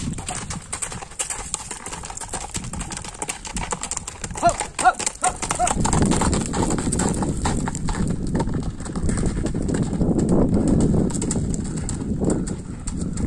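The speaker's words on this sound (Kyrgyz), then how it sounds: "Ат жаныбар мына." A horse moves and turns outdoors, its hooves clattering in quick irregular strikes, then a broader rumbling noise rises. People talk and birds call in the background.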